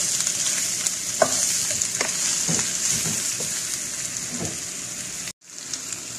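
Beef browns in a hot pan with onion and garlic, sizzling loudly and continuously under occasional stirring scrapes, then cutting out abruptly for a moment near the end before resuming.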